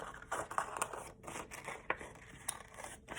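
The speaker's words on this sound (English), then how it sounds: "Now I'm gonna take my scissors and cut that out." Scissors snip through paper cutting out a traced shape in a quick series of short, crisp cuts, close and fairly quiet, with no talking.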